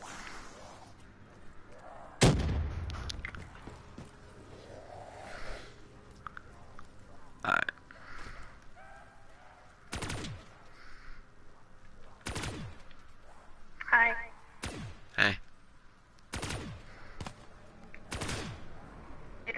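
Gunfire against zombies in Call of Duty's Kino der Toten map: sharp, loud shots and short bursts crack at intervals of a second or two, some isolated and some in quick clusters, over a low game background.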